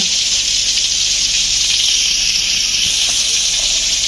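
Food sizzles in a hot wok reheated for a dried-fish and eggplant curry, a steady loud close hiss of frying that runs unbroken throughout.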